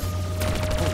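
Gunfire rattles in Call of Duty Black Ops III zombies on the Shadows of Evil map, a rapid burst of shots starting partway through this short moment over a low game hum.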